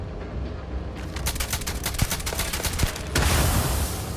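Gunfire in the Space Scoundrel video game, a quick run of sharp rapid shots followed by a louder rushing burst of noise, with no talking.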